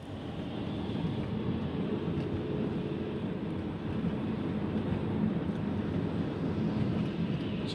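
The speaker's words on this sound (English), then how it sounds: "Just driving home through a snowstorm after jet boating on a river." A car drives home through a snowstorm in Alberta, heard from inside as a steady, heavy low road and engine drone with constant rushing noise and no voices.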